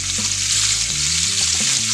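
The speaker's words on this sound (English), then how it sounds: "Just listen to that sizzle." Loud, close sizzling and crackling of steak frying in a hot pan, continuous and hissing throughout.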